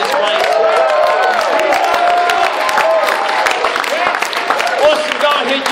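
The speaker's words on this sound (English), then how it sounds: "Can we just give Jesus Christ a bit of a cheer in this place?" A church congregation cheers and applauds for Jesus Christ indoors, a dense, steady wash of clapping and whoops with mixed voices throughout, loud and sustained for several seconds.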